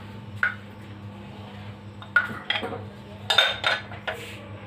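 Boiled potatoes are dropped into a bowl, giving a few soft thuds and clinks of dishware, with a cluster of louder clattering in the middle against a low steady hum.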